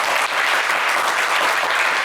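Studio audience at a TV game show claps loudly and steadily, a dense, even wall of applause from start to finish.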